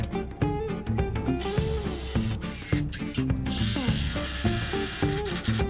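A screw is driven to lock a wooden stretcher piece in place while building a bottle opener. Short ratcheting mechanical bursts repeat in quick succession over steady background music.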